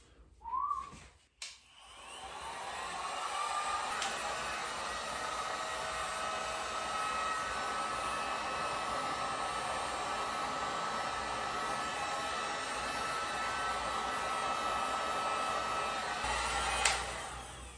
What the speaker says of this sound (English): We have a heat gun.